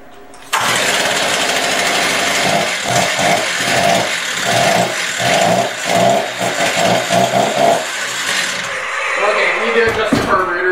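A rebuilt Stihl TS350 cut-off saw engine fires and runs loud and close, revving unevenly as the two-stroke engine is adjusted, with talk and a clatter of tools near the end.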